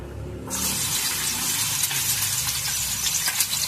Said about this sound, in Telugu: ఆయిల్ మనకు వేడెక్కాక సన్నగా కట్ చేసుకున్న 2-3 ఉల్లిపాయలను కోసుకొని వేసుకోవాలి.